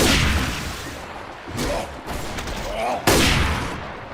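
Gunfire during a Left 4 Dead 2 versus match, several loud booming shots in sequence over noisy game ambience, with a voice partly heard under it.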